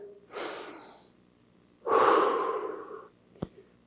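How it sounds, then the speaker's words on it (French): Two deep, close breaths during an upper-body workout of T, Y and W arm raises: a softer inhale, a pause, then a longer, louder rushing exhale, ending with a small click. "Grande respiration."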